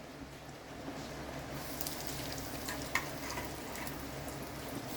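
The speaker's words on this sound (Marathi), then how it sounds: "आता त्याच्यात मी हिंग घालणार आहे" Asafoetida dropped into about four tablespoons of hot oil for a tempering, sizzling steadily and close with a light crackle and one sharp pop, no talking.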